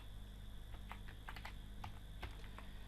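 Someone types on a computer keyboard in quiet, irregular bursts of soft key clicks.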